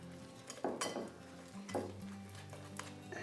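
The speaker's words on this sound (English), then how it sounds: "Now we're gonna get our whisk. We're gonna mix that all together." A whisk stirring a thick dove kabob marinade in a bowl, with repeated scraping and clinking strokes against the container, close and fairly quiet, with no voices.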